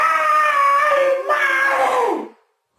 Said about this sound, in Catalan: Va pegar un crit que es va sentir per tota la sabana.